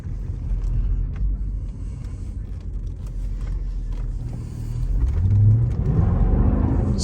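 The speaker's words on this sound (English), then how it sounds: "This motor definitely breathes." A Mercedes AMG engine rumbles low and steady from inside the car, then swells louder toward the end as it revs and pulls harder.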